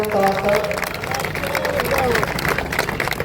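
Outdoors at a street-corner political rally, an audience claps to welcome a member of parliament, a dense, continuous patter of hands over crowd murmur and raised voices throughout.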